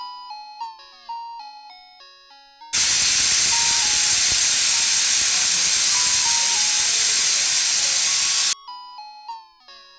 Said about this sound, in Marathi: कुकरचं झाकण लावून आपण 4 शिट्ट्या करून घेऊया।